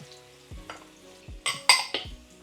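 Ginger frying in a pan for a Filipino kinamatisang pork-bone dish, with several scraping stir strokes through a soft sizzle and a few sharp utensil clatters against the pan, close and clear with no talking.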